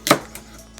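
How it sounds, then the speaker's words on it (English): A kitchen knife dices celery on a cutting board: one sharp close chop, then two lighter taps, with no talking. "we're gonna go ahead and dice these up real quick"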